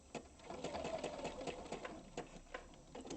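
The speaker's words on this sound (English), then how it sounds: "I will back stitch it just slightly" Sewing machine running a short back stitch on a fabric bowl, a quiet rapid mechanical whirring and ticking of the needle in quick bursts, close and without talk.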